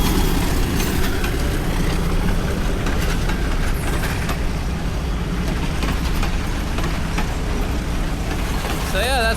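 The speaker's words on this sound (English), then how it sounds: "that's the train" A coastal commuter train in Colombo, Sri Lanka rumbles past nearby with a steady broadband roar and clatter, loud throughout, with a brief horn-like tone near the end.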